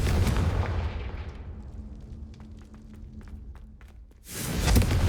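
A booming Confringo fire spell blast from the Hogwarts Legacy video game, a heavy explosive burst that fades into a crackling tail before another loud rumble rises at the end.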